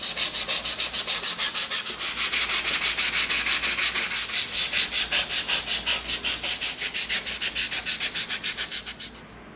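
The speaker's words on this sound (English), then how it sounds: "Now we're going to come in with our sanding stick" A sanding stick smooths a dremeled EVA foam prop rifle part, giving steady back-and-forth rasping strokes in a fast regular rhythm, close and fairly loud, with no talking.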